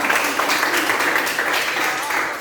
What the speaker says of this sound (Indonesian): Aplaus dulu kita semua